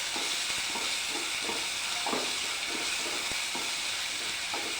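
Ingredients for chickpea curry sauté in a pan, heard as a steady close frying sizzle broken by scraping stirs and soft clicks of a utensil against the pan, with no talking.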